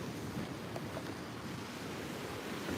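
Faint ocean surf at a shore at sunset rolls in as a steady, wide wash of noise with some wind, distant and even, with no voices.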